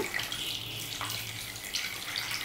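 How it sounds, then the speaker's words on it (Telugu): Water pours steadily into a pot over washed pieces of Sora fish for a Konaseema-style curry, a continuous close splashing rush with no talk. "ఇప్పుడు ఇందులో మనం నీళ్లు పోసుకుందాం"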